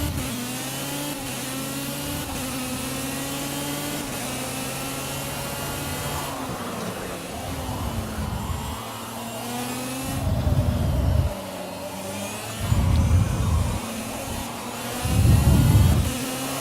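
A go-kart engine in the Project Cars racing game buzzes steadily at high revs, then surges in several loud, rhythmic bursts as the throttle is repeatedly opened between corners.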